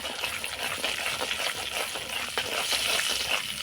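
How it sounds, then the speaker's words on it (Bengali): Spices, salt and turmeric frying in hot mustard oil for a raw mango pickle, a soft continuous sizzle with faint stirring scrapes, close and quiet. "একটু নাড়াচাড়া করে আমি তেলের মধ্যে ভেজে নেব।"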